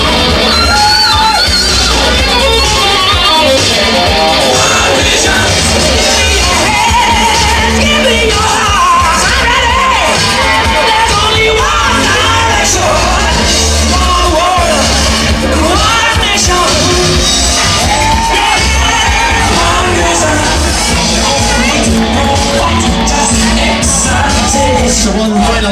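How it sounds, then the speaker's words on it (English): Wedding reception guests cheer, whoop and shout in a loud, dense crowd roar that continues steadily, with music and hand-clapping mixed into the din. "A big round of applause, ladies and gentlemen."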